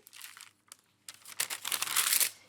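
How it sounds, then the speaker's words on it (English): Pastry is folded over ham, producing soft crinkling and rustling in irregular bursts that grow busier and denser toward the end, heard close and quiet. "Now I'll fold this pastry over the ham"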